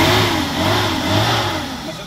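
A car engine revving up and easing off, a steady mid-pitched drone that rises and falls over a couple of seconds, close by.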